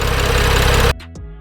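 Car engine after a Liqui Moly Molygen oil change idles with a loud, close, steady rumble for about a second, then cuts off abruptly, leaving only faint clicks.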